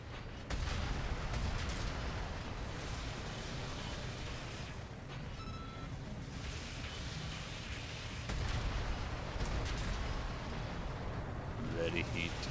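Heavy booming shots from shoulder-mounted weapons in an Armored Core game, with repeated deep blasts over a constant rumbling battle din and someone speaking at times.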